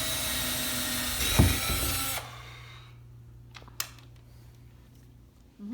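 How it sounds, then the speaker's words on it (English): An electric drill bores a hole into drywall to mount a shelf with anchors, whirring loudly for about two seconds before cutting off, followed by a few faint clicks and handling sounds. "now I'm going to drill this hole"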